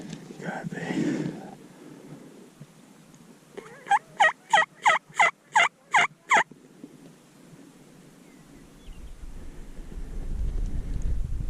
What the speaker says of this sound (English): That first gobble I heard was somewhere over here.